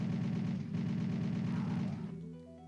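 In the Doom video game, chaingunner enemies fire rapid, continuous bursts that stop abruptly near the end, clear and close with no talking.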